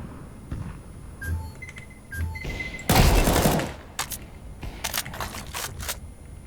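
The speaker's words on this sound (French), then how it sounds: "Throwing a grenade." Counter-Strike 2 grenade blasts and gunfire: a loud burst of explosive noise near the middle, followed by sharp crackling shots and metallic clicks, with softer pops before it.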